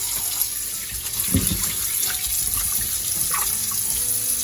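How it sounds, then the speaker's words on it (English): Steady running tap water pours and splashes continuously, close by, with occasional small knocks as oxtail is rinsed underneath. "you can just rinse your oxtail with some fresh water."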